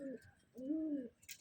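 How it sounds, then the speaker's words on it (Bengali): A black pigeon coos twice close by, a short low coo followed by a longer, rising and falling one, with faint chatter in the background. "কালো পায়রা তো কালো পায়রা কাকে বলে একবার দেখেন"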